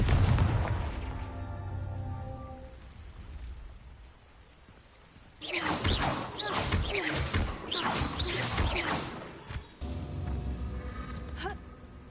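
Confringo blast spell cast in Hogwarts Legacy, a burst of loud crackling impacts arriving after a quiet stretch, then rumbling on and ending in a second crashing burst.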